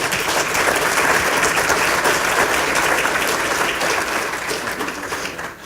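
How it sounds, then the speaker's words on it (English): An audience at a panel discussion on generators and equipping nursing centers claps in sustained, dense applause. It stays loud and even for several seconds, then begins to thin and fade at the end. "Is the applause because I picked being a lobbyist instead of an electrical engineer? Is that why you're clapping?"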